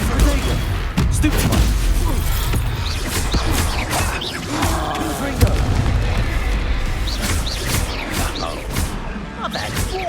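Incendio fire spells are cast over and over in Hogwarts Legacy, making dense booming, crackling bursts of flame during a loud fight. A voice shouts once in the middle of the noise.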